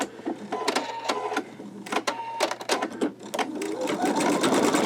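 An embroidery machine stitching a design onto a T-shirt, a rapid, close clatter of needle strikes in bursts with short pauses, running more continuously toward the end.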